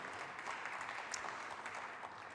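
Steady applause from a conference audience, a dense wash of clapping that holds at an even level throughout with no talk over it.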